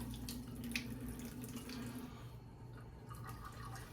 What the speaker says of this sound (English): Get a little warm water in here